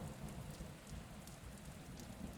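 Steady rain pours down across a town street with sidewalks and trees, a continuous dense hiss of drops hitting surfaces, with no voices.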